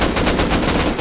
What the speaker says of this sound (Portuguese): Acertei todos os tiros, velho.